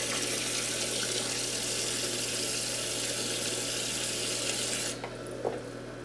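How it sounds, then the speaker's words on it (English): Tap water pours steadily into a container for a homemade DIY water level alarm, a dense, even rushing that holds for about five seconds before cutting off, leaving a quieter background with a couple of small knocks. "kick this water on and let it get up to that level"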